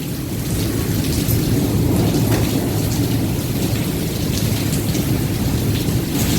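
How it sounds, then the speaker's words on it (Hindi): Heavy rain pours down in a loud, unbroken roar, steady and close for several seconds with no one speaking. "आवाज़ सुन रहे हैं बारिश की आप लोग।"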